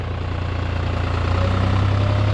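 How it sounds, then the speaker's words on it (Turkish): A New Holland T580B 55 hp tractor with a grader blade runs close by, its diesel engine chugging in a steady low throb that swells slightly louder toward the end. "Bu traktör 55 beygir gücünde bakalım bize nasıl bir performans sunuyor."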